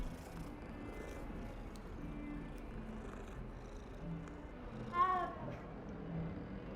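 A cat in the video game Hogwarts Legacy gives a single clear meow midway through, over quiet in-game ambience and low background hum.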